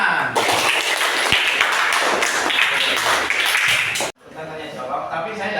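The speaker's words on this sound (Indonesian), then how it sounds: "Tepuk tangan." Students in a fifth-grade classroom break into dense, steady applause for about four seconds, the clapping cutting off abruptly and leaving quieter room noise with faint voices.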